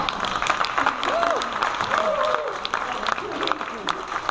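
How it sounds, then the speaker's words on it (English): Applause at a community meeting, a crowd clapping steadily and fairly close with voices talking over it. "she deserves a big hand of applause"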